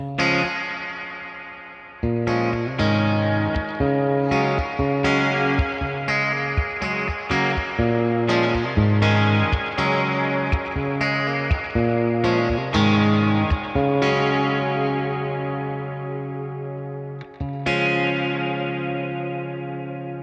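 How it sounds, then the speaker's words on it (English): An electric guitar runs through a Hungry Robot Stargazer reverb pedal on its red ambient channel, sustained chords ringing into long washy tails and brief gaps, then a final chord fading slowly. "Now I'm going to switch to the red reverb channel, and that is more of an ambient reverb setting."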